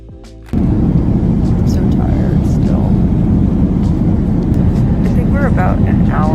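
Steady, loud roar of airplane cabin noise on a long 11-hour flight, a dense broadband rumble that kicks in after a brief quieter moment and holds constant, with faint murmurs of voices beneath it.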